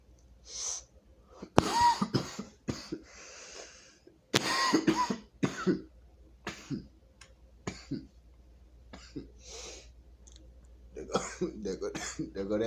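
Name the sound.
coughing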